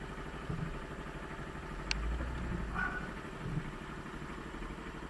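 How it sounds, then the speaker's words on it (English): An air pump running to fill a tank, a steady low mechanical chugging drone heard from a short distance outdoors, with a brief faint squeak partway through. "You can hear their air pump going, filling the tank."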